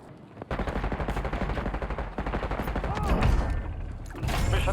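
Rapid, sustained automatic gunfire in dense bursts in the video game Call of Duty: Warzone, loud and close, with heavier blasts mixed in.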